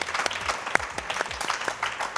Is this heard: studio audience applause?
yes